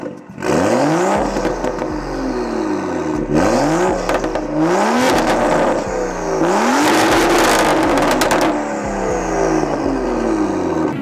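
A tuned BMW M2 with an N55 engine revs hard through repeated rising pulls. Loud exhaust burbles and crackles come between the surges, close and without talk.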